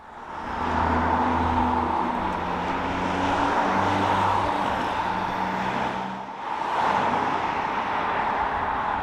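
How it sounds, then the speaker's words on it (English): Steady roar of busy traffic on the Evesham Road in Cheltenham, with cars whooshing past one after another, briefly easing before swelling again. "excuse the noise from the busy road"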